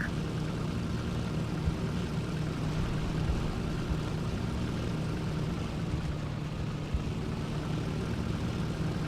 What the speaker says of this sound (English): I'll instead opt for this captured American Sky Raider